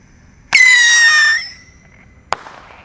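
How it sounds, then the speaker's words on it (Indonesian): A blue pyro rocket firework launches with a sudden loud whistling screech that holds for about a second and fades, followed by a sharp crack a moment later outdoors at night. "Roket piro siap meluncur."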